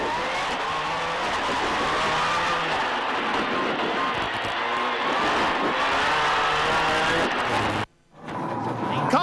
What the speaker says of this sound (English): Now watch as Loeb starts to drive away, and Elena crawls back in.